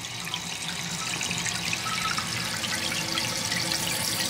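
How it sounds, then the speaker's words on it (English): A toilet tank refills with water after a flush, a steady hissing rush of inflowing water close by, continuous and even throughout with no talk. "refill the tank by triggering the release of the water into the tank by pushing the flush"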